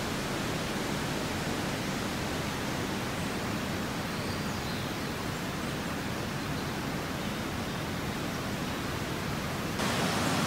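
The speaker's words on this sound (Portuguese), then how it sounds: "Olha o barulho da água." A river swollen by heavy rain rushes beside a road between Joinville and Garuva in Santa Catarina, making a constant, even roar of water that holds steady throughout.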